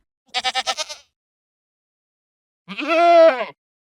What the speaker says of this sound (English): There are sounds for goats idling,